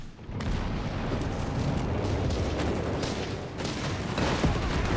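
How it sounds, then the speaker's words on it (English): Artillery barrage in Company of Heroes 3, a dense continuous rumble of booms and blasts under intense fire, steady and loud throughout with scattered sharper impacts. "Panzers are being repaired under intense Allied artillery fire."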